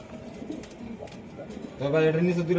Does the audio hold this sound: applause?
no